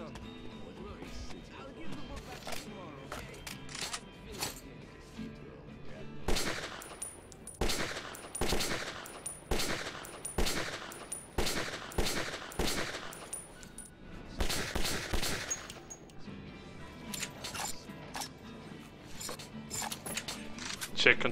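Rapid bursts of gunfire from the shooting range in Metro 2033, loud automatic volleys and single cracks coming in clusters, with quieter stretches between them.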